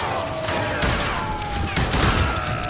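Rapid gunfire volleys from a Wild West shootout in the video game Call of Juarez: Gunslinger, sustained bursts of shots filling the scene with continuous loud crackle and several sharper reports.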